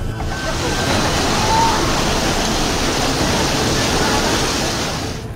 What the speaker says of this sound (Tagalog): makikita ang malakas na pagragasa ng tubig sa Wawa Dam sa Rizal